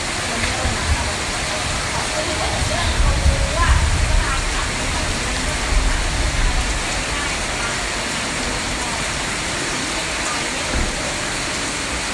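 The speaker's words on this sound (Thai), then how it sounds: "ตอนนี้ฝนตกแรงมาก" Heavy rain pours steadily as a dense, continuous roar while travelling to Sangkhla Buri in Kanchanaburi, Thailand, with loud broadband wash throughout and occasional louder bursts.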